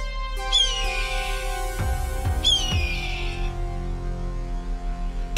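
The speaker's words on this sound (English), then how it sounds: "Male hawks are very territorial and will screech to defend their territory." A red-tailed hawk's shrill, descending scream rings out twice, harsh and carrying, over a low steady hum.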